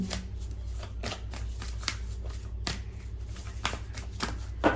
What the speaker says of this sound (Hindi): मैं एक कार्ड इस डेक से भी लेना चाहूंगी।